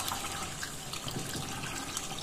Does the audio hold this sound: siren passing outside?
no